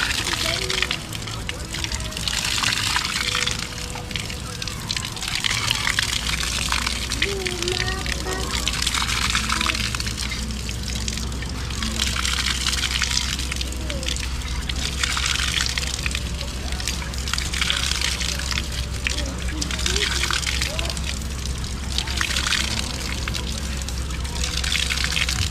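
Water gushes steadily from a newly drilled pump well, a continuous close splashing and pouring rush that runs throughout while people talk in the background.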